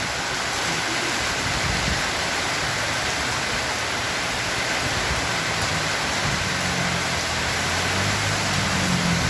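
Heavy rain pours in a dense, constant hiss that stays loud and unbroken from start to finish, with faint low rumbling underneath and no voices.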